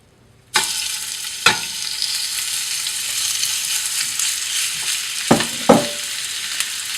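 Stew meat for beef burgundy browns and sears in olive oil in a hot pan, a steady loud sizzle starting abruptly and running throughout, broken by a few sharp clatters of stirring.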